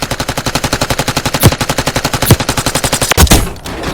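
Rapid automatic gunfire in Warzone Mobile rattles in a steady, loud stream of evenly spaced shots, broken by a few heavier blasts near the end.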